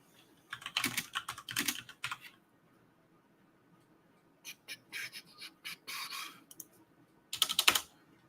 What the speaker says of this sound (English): I'll try actually typing the word out.